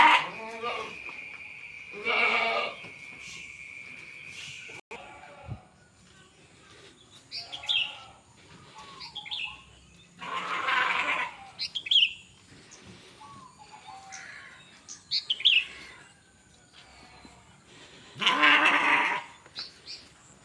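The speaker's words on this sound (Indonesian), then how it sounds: "Kambing kibas, ini kambing Jawa." Javanese goats and fat-tailed sheep bleating in a livestock pen, repeated loud cries spaced a few seconds apart, with faint chirping birds and low background noise between calls.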